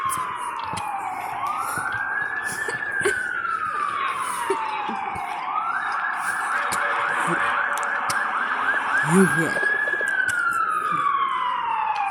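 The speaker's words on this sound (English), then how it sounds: "some loud siren action." A loud emergency siren wails downtown, rising and falling through a couple of long sweeps over steady city traffic noise.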